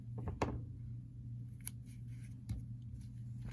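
Scissors trim the yarn ends of a peg loom weaving, making a few crisp snips against a quiet low hum. There is one sharp cut near the start and lighter clips after it.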